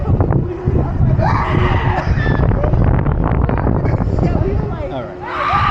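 Riders scream on the Pandemonium roller coaster at Six Flags Over Georgia, loud shrieks mixed with rumbling ride noise and wind, with people talking over the din.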